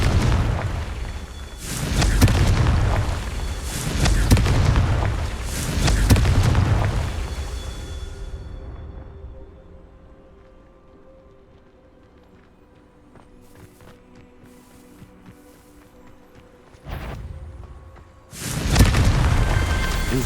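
Confringo blasting spells going off in Hogwarts Legacy during the Merlin trials, a run of loud booming explosions with rumbling tails, a long quieter stretch of faint activity, then sharp blasts returning near the end.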